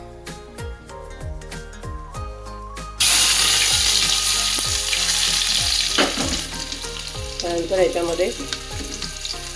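Spices and onion hit very hot oil on a high flame, making a loud, sudden hiss and crackle of tempering for Hakka noodles. Light clinking comes before it, the sizzle holds strong throughout, and a voice speaks briefly.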